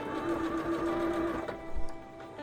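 A sewing machine stitches the shoulder seams of a dress bodice, a steady mechanical hum and whir running continuously and fairly quiet.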